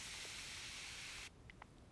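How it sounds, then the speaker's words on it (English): An AquaMyst PET plastic spray bottle with a 3mm nozzle releases one continuous pump-driven mist, a close, even hiss lasting over a second before cutting off abruptly, followed by faint small clicks. "the magic of it is a pump that has a continuous spray."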